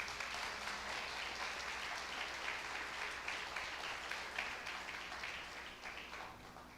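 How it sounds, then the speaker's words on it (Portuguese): Congregation applauding in church during a sermon, a steady, full rush of clapping from many people, fairly distant and soft, holding evenly before easing slightly toward the end. "Aplausos ao Senhor."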